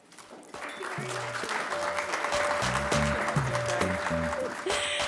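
Applause from the audience at an awards gala rises quickly and holds as dense, steady clapping, with music playing underneath.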